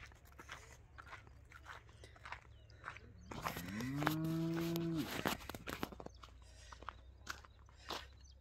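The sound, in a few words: cow mooing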